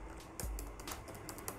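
Keystrokes on a computer keyboard as chatbot text is entered, a quick irregular run of clicks with one heavier thump near the start, close and fairly quiet with no voices.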